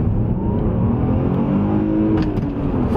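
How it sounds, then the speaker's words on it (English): A 2003 VW Golf R32's naturally aspirated V6 engine revs steadily and loudly, its rich rising harmonic drone close by and continuous through the whole stretch with no talking. "it's basically a naturally aspirated V6 engine that VW produced"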